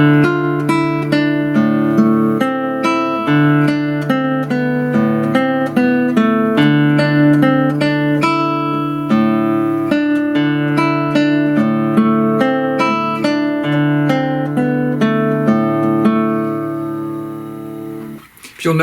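Igor's Dance, a beginner guitar method piece, is played briskly on guitar as a quick run of plucked single notes in a steady, even rhythm, clear and close, with no talking before it fades out.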